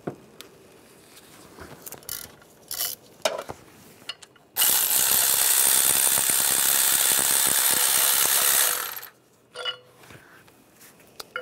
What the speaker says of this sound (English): Use an 18mm socket.